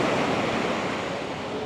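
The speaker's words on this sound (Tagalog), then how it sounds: "Napakalakas ng alon." Strong sea waves at Boracay roar in a steady, dense wash of surf, loud and continuous, with wind noise and no voices.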